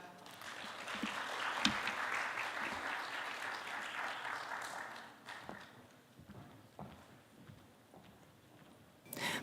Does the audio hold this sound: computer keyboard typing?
no